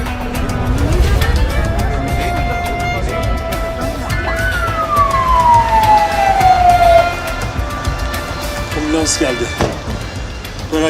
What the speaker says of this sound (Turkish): Ambulans yolda beyefendi, geliyor.